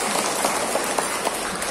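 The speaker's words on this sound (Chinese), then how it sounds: "来给他们掌声一下" An audience at a talk in a Buddhist hall claps for a group, a short dense burst of applause that stays even throughout.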